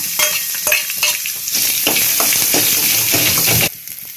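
Chopped ginger and garlic sautéing in hot oil in a pan for a Kerala-style buttermilk curry, a steady loud sizzle broken by repeated scraping stirs, then dropping quieter near the end.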